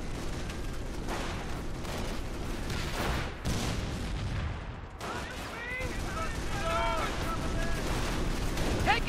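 Gunfire rattles in Company of Heroes, an Allied American armor battle against the computer, with sustained shots and distant booms, while radio-style voices call out over the combat.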